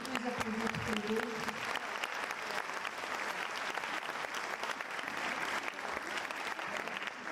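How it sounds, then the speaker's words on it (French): Steady audience applause at a French conference on child protection, dense and sustained throughout, with a faint voice briefly audible near the start. "Vous pouvez les applaudir tous les deux."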